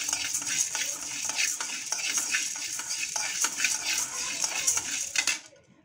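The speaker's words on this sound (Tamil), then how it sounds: "இந்த ஜவ்வரிசியாக வறுத்துக்கிறேன். லைட்டை வறுத்துக்காங்க." Sago pearls dry-roasting in a pan for a baby-food breakfast, giving a steady close rattle and scrape of stirring with clinks of the spoon against metal, continuous and fairly loud until it stops abruptly near the end.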